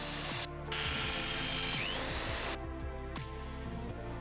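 Mechanical power-tool bursts, close and fairly loud with short ratcheting pauses, come from bolting a caster wheel onto an MDF base.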